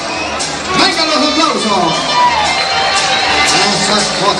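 A bullring crowd at a bullfight in Lamaní cheers, whoops and shouts loudly, a dense roar of many voices with children's shouts over it while an announcer speaks through the noise.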